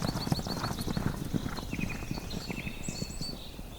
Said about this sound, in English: Their hooves provide agile movement on rough surfaces, from sharp rocks to gravel